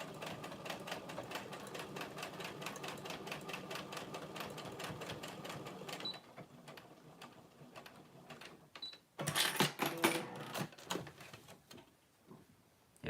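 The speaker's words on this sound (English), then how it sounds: "I somehow forgot sewing machines could go fast" A sewing machine runs fast at close range, its needle clattering in a steady rapid stitch for about six seconds, then slowing into shorter bursts mixed with clicks and handling noises.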